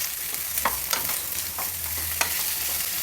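Garlic and farm tomatoes fry in a pan for an instant oggarane dosa, a steady sizzle broken by several sharp scrapes of a spoon stirring.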